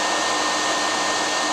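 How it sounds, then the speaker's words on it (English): A designed helicopter effect built from layered noise with a Synth Master patch blended in, heard as a steady, dense, loud whooshing roar with no variation over its short span. "To give a mechanical sound to the helicopter, a patch from Synth Master was blended into the overall helicopter sound"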